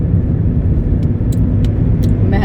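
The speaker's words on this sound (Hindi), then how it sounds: "तो इसलिए तेज़ चलाना पड़ेगी गाड़ी।" A car drives along a road, heard from inside the vehicle as a steady, loud low rumble of engine and tyre noise with a few faint high ticks, and no talking.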